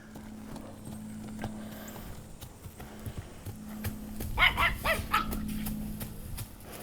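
A small dog growls low and steadily at a horse passing close by, with the horse's hooves clip-clopping through the sound and louder stamping near the end.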